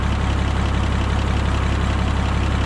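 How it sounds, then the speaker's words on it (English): A propane-fuelled International 660 LP tractor idles up close, its engine running in a smooth, even low rumble with a steady rapid beat that never changes. "All these propane tractors all run real smooth."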